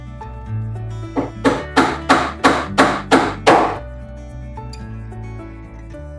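Nails being hammered into a wooden carpenter's toolbox, about eight sharp, evenly spaced blows in a quick run, loud and close over a low background hum.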